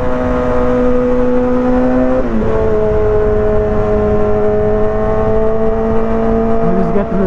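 A 2023 Kawasaki ZX6R sport bike engine holds a loud, steady high-pitched rev, dropping briefly in pitch partway through before climbing and settling again, with no talk over it.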